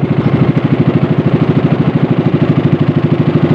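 A fishing boat's motor chugs steadily as the craft comes in to dock off Mabini, Bohol, with a loud, close, rapid rhythmic thump that runs evenly throughout and no voices over it.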